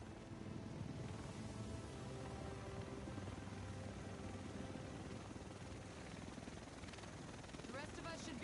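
A helicopter arrives in The Division video game with a dense, steady rotor roar and chopping throb that stays loud throughout, while voices carry on over the engine noise.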